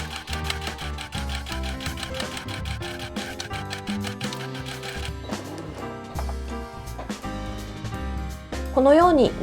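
A sewing machine stitches fabric for a small wallet with a fast, close, rhythmic run of needle clicks, slowing and pausing briefly along the way. Background music plays throughout.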